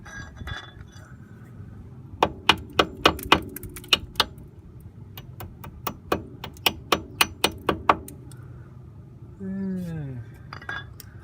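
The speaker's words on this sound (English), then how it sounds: "turning the nut." A wrench turns the rusty nut on a 2004 Honda Accord ball joint, making a series of sharp metallic clinks and ratchet ticks in bursts, with a voice speaking briefly near the end.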